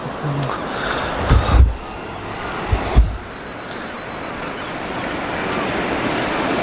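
Sea waves surge and break on a shore by the sea at Bournemouth, a steady broadband wash with wind noise on the microphone and two heavier crashing surges standing out near the start.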